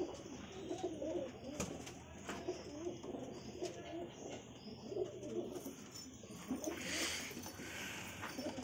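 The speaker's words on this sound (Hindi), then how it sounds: "जैसे कि आप देख सकते हैं, इतने सारे कबूतर हैं।" Several high-flyer pigeons coo in low, repeated throaty calls nearby at a pigeon loft, with occasional chirps and flutters, while a person speaks faintly in the background.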